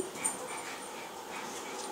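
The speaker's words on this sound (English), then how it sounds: "Dang dogs." Dogs whimper and pant softly in a room, a thin high whine drifting over low background noise, faint and steady for a couple of seconds.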